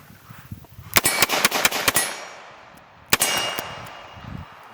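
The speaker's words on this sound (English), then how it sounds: "I'm going to try to shoot some double action." Colt Python revolver fired double action, a rapid string of six loud sharp shots in about a second, then a single shot after a pause, each followed by ringing echo.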